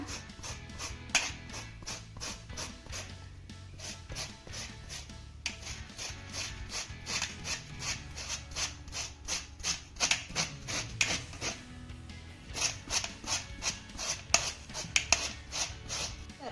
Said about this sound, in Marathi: ही कैरी किसण्यासाठी मी छोट्या किसणीचा वापर करणार आहे म्हणजे आपली ही कैरी बारीक छान अशी किसली जाईल